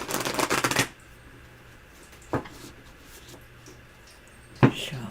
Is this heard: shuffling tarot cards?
yes